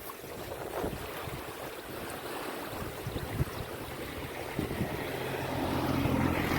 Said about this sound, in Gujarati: આ બધું પાણી જાય છે મુંજિયાસર ડેમ.